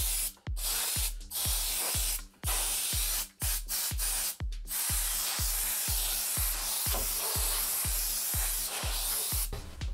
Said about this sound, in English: Hit it with that canned air again